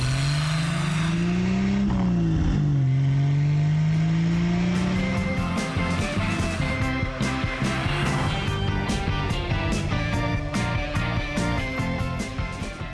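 A Triumph TR sports car engine revs loudly and close by, its pitch climbing and dipping before settling into a strong, sustained roar with a rasping exhaust edge. The engine sound runs alone without voices.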